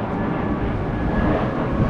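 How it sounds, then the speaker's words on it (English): Airplane passing over Lake Michigan near Milwaukee's McKinley Marina pier, a steady broadband engine rumble with a faint high whine, continuous and moderately loud, mixed with wind noise on the microphone and no speech. "There's another airplane."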